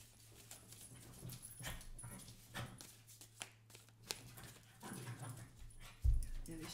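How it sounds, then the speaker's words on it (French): Dogs playing with soft whimpers and scuffling, intermittent yelps and thumps rising near the end, heard close over a low steady hum indoors. "Il y a les chiens qui jouent."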